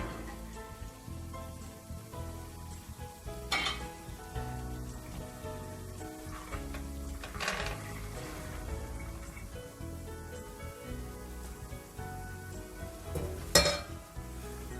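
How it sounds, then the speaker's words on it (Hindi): Boiled black-eyed beans sizzling and frying in a pan of spices, a steady crackle with a few louder scraping stirs, close by and without speech. "अब लोबिया को भी मैं अच्छी तरह मसाले में भून लूँगी तकरीबन 5 मिनट तक के लिए"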